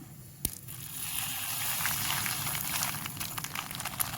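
Mustard seeds and dried red chillies crackling in hot coconut oil for a jackfruit sambar tempering, a steady close sizzle with scattered pops and one sharp crack near the start, no voices.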